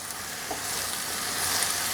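Spinach tossed in a hot pan with olive oil and minced garlic gives a steady, close hissing sizzle that holds evenly throughout and swells slightly near the end, with no voices.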